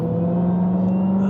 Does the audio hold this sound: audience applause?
no